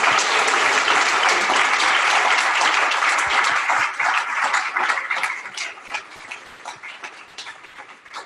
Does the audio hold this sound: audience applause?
yes